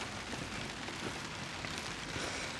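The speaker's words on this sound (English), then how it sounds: "It's currently raining." Rain falls steadily outside an abandoned convent, a soft, even hiss of drops on surfaces with no voices, constant from start to finish.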